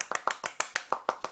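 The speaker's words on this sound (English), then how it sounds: "You can stop clapping now, Chris." A single person claps on a live call, about eight quick, evenly spaced claps heard up close with nothing else around them.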